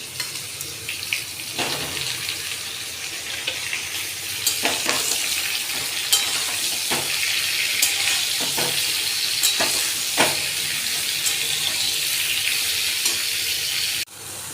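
Vegetables frying in oil with whole spices such as fennel, dried red chilli, radhuni and a bay leaf, a continuous close sizzle with occasional stirring scrapes and clatter.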